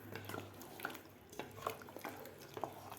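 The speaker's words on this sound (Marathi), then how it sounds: "तर व्यवस्थित आपल्याला पाणी घातल्यानंतर व्यवस्थित मिक्स करून घ्यायचं आहे" A spoon stirs rice and water for a cashew and fresh pea pulao inside a pressure cooker, making several faint scraping and sloshing strokes in an uneven rhythm.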